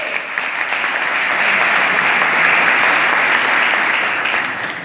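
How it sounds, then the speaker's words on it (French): Audience at a seminar with a writer and psychologist breaking into sustained applause, dense close clapping that swells and holds steady for several seconds before easing off. "je vous appelle à les applaudir, à les acclamer, à les ovationner"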